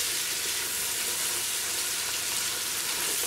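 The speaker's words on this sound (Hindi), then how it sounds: "और थोड़ा इसको मिक्स करेंगे अच्छी तरह।" Dried prunes being stirred into biryani masala in a frying pan, a steady broad sizzle with faint scraping that stays close and even throughout, no talking.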